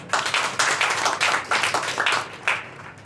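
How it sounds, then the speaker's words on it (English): A crowd claps in steady applause, many hands together at close range, swelling and fading in bursts for a few seconds with no talking. "I think that deserves a round of applause."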